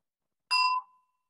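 A single bell struck once during a meditation session, a clear bright ding with a short ringing tail fading to silence, alone with no talk.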